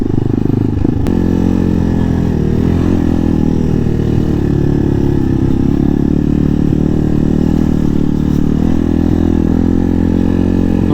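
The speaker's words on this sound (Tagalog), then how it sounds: "May rough road ulit. Konti lang. Kaya naman ng scooter oh." A scooter engine drones loud and close while riding a rough dirt mountain road in Porac, Pampanga, its steady hum mixed with rattling and clatter from the bumpy surface, with no talk.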